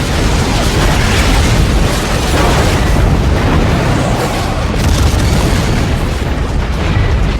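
A powerful explosion at sea, a loud, dense roaring blast that rumbles continuously and evenly without a break, heavy and booming alone with no voices.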